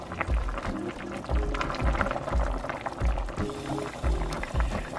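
Water with dried shrimp boiling in a pot, a close, continuous bubbling and rolling churn that swells in rhythmic surges, with no voices.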